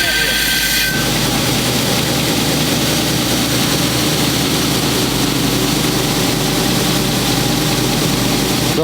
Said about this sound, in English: wonderful machine for flatbed grinding applications